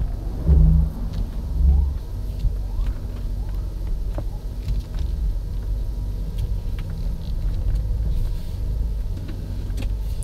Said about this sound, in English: I'm going to take the car for road test and check to see what we did